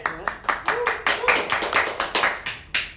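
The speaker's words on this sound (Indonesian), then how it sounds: "Kita tepuk tangan dulu" A small crowd at a comedy show claps in a loose, rhythmic pattern of distinct close hand claps, about a dozen sharp beats, with speech mixed in underneath.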